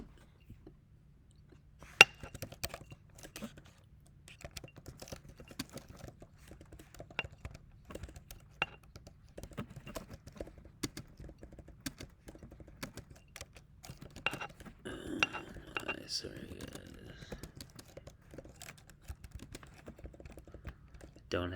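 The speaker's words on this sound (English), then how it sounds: "typing on a cardboard box" Rapid keyboard typing on a keyboard resting on a cardboard box, with a hollow, boxy resonance, irregular bursts of clicks continuing for a long stretch, close up, with occasional faint voice sounds.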